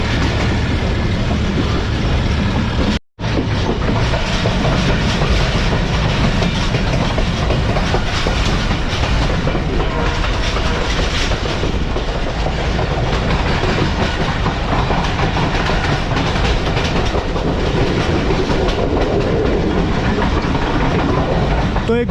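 Mohen Jo Daro passenger train running on the Rohri–Chaman main line in Sindh, passing a station without stopping: a loud, continuous rumble and clatter of wheels on rails, with a brief dropout near the start.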